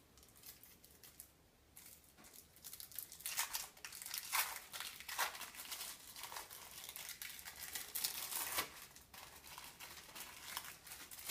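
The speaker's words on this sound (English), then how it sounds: "peel the plastic back so it separates, and unwrap the plastic from around the cheese" Thin plastic wrapper crinkling as it is peeled back and unwrapped from a single cheese slice, a soft continuous rustle with a few sharper crackles, close and fairly quiet, no voices.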